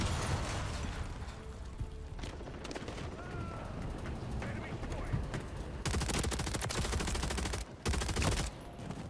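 Rapid bursts of AMR9 submachine gun fire in Modern Warfare 3, dense and loud with overlapping shots and mechanical clatter from the game, sustained across the stretch with a brief gap near the end.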